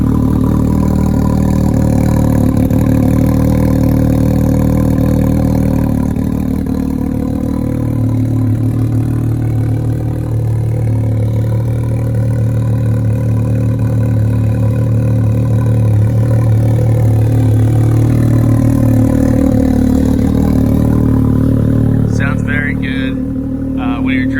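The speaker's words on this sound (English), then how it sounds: "I guess I'll give you a little sound clip of that exhaust" A Can-Am Maverick X3 XMR UTV idles with its exhaust cutout closed, a steady, deep exhaust rumble, close and loud, swelling slightly in the middle before settling back.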